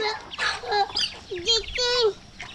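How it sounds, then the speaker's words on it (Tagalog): Native chickens and chicks on a farm give short honking clucks and calls close by, several bursts over a couple of seconds, with a person's voice in the background. "Chicken."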